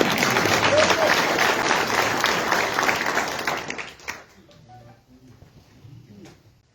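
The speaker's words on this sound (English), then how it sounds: "let's give him a round of applause" Audience applause fills a council meeting room, dense and loud for about four seconds before thinning to scattered claps and fading into quiet room noise.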